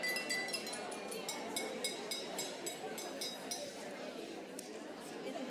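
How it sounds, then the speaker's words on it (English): A glass is tapped repeatedly at a public forum, a steady run of thin ringing clinks spread across several seconds, heard under a continuous murmur of crowd chatter in a large room. "whoever clinked that glass for me before, would you clink that glass again?"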